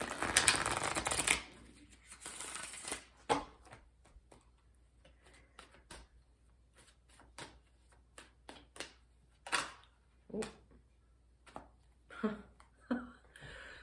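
Spirit Animal Oracle cards riffle in a loud burst at the start, then a slow series of soft separate flicks and taps as the deck is handled, quiet and close with no talking.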